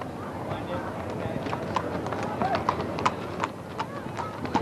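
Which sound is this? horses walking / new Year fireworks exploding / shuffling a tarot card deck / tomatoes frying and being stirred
horses walking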